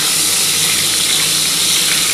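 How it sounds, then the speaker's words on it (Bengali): Pointed gourd (potol) fries in hot oil in a pan, a steady dense sizzle that stays loud and even throughout with no talking. "পটলটা একটু লাল করে ভাজতে হবে।"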